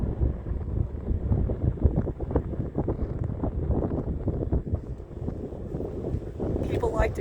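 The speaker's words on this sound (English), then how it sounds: "A little breeze, but not bad." Light breeze buffeting a microphone high on Big Horn Mountain in Wyoming, a steady low rumbling gust that runs the whole time and rises slightly near the end.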